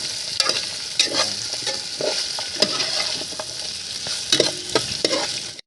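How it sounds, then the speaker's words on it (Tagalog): Onion and garlic sautéing in a pan for a meat dish, a steady bright sizzle with repeated scrapes and clacks of a spoon stirring, close and continuous, no voices. "Gisa lang po natin siya dito sa sibuyas, bawang."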